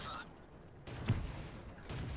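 Tank cannon fire in the video game World of Tanks comes as a few muffled booming shots with rumbling low-end tails, spaced apart over a low background of battle noise.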